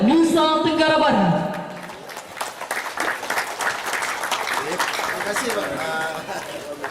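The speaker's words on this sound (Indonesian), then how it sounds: "berikan tepuk tangan yang sangat meriah" Applause from the audience at an Indonesian GP Ansor 84th anniversary ceremony and corn-planting launch held at a pesantren, rising after a harmonic voice tone and continuing as a steady, dense clatter of many hands for several seconds.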